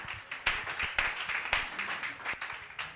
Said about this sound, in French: Un max d'acclamation pour la sœur Johanna,